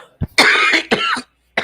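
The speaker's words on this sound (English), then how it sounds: "a dry cough" A couple of sharp, dry coughs come up close, with a brief throat sound before them and a short pause between bursts.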